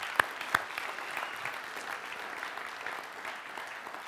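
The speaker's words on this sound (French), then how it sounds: "Et c'est lui qu'on applaudit ce matin" A morning church congregation applauds Jesus with steady, moderately loud clapping throughout, and two sharper claps stand out near the start.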